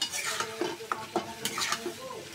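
Tomatoes being stirred into spiced oil for a tilapia and bean-seed curry: repeated close scraping strokes of a spoon in the pan over a steady sizzle, with no talk.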